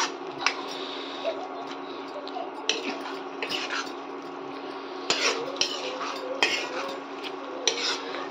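A spoon scraping and clinking against a pot while saag is mixed, with irregular sharp knocks and a steady background hum throughout, fairly quiet.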